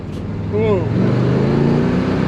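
A Chevrolet Nova with a freshly installed 383 stroker V8 rumbles loud and close, revving up in a steady, throaty drone that holds for a couple of seconds, with no one speaking over it.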